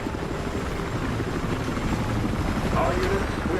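A helicopter in the video game Battlefield Hardline thrums steadily with a loud, continuous rotor drone throughout, close and dominant in the mix.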